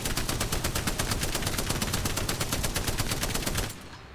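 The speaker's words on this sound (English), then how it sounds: "I'm going to want to counteract those zigzaggy movements as I'm shooting the Spitfire" A Spitfire light machine gun in Apex Legends fires one steady, rapid stream of shots for about three and a half seconds, loud and close, then cuts off into a short tail.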